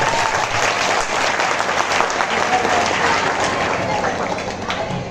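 Devotional gathering audience claps, dense sustained applause from a crowd filling the whole stretch, with voices mixed beneath.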